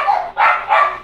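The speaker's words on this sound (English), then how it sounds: "Those dogs are going crazy right now." Several dogs bark loudly and close, three sharp bursts in quick succession with nothing else audible.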